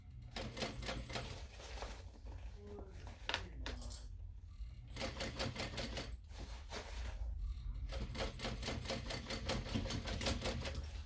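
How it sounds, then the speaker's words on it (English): A sewing machine stitches a mini backpack, including a few back stitches over its pockets, in a dense rapid mechanical clatter that runs almost without pause, with one brief lull near the middle. "I'm doing a couple of back stitches over those pockets."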